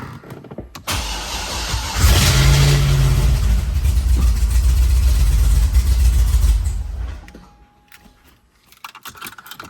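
An engine-swapped Corvette C6 Z06 cranks and fires, then roars loudly up close through several seconds of revving before dropping off abruptly into quiet.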